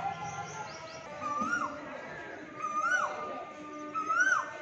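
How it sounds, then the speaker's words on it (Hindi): Asian koel calling in a quiet outdoor setting near an old brick building in Rasool Nagar, repeated rising whistled notes at a steady interval over faint background ambience. "कोयल की आवाज़ क्या बात है"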